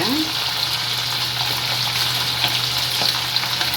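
Chicken pieces sit frying in a pan of hot oil, giving a loud, dense, steady sizzle from start to finish, with a low hum underneath and a brief bubbling chirp at the very start.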